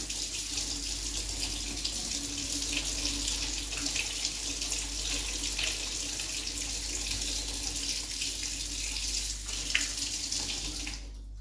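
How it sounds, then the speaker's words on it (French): Warm water streams steadily from a kitchen tap into a sink while baking gluten-free cinnamon rolls, a continuous even splashing hiss with no talk, ending with a brief clunk. "on va aller directement au robinet, prendre de l'eau tiède"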